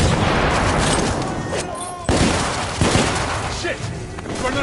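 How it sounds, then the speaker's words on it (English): A grenade blast in The Order: 1886 goes off amid dense game combat, with heavy booms and gunfire crashing through continuous loud noise and voices shouting over the din. "Grenade!"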